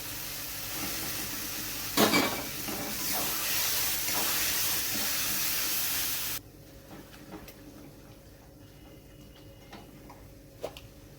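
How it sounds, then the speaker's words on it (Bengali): Spinach paste goes into a pan of fried spices for a rohu fish and palak dish, setting off a loud, hissing sizzle with a sharp burst early on. The hiss cuts off abruptly partway through, leaving faint quiet clicks. "মশলাটা খুব ভালোভাবে কষানো হয়ে গেছে এবার আমি এতে দিয়ে দেবো পেস্ট করে রাখা পালং শাকটা"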